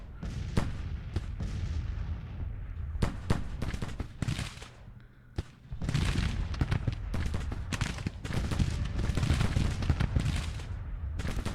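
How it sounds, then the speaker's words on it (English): Artillery and rifle fire crack and boom in the American Civil War strategy game GT:CW 1861-1865, a dense run of loud shots and volleys in irregular bursts, with a brief lull midway before the firing resumes. "I've redirected the fire from these two artillery guys onto the artillery battery over there."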